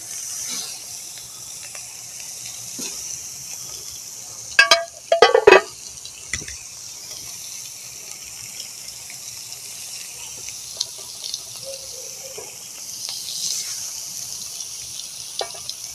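Fish sizzling on a hot grill plate set over embers, a soft continuous hiss with faint crackles, plus a few brief louder clatters and bursts partway through.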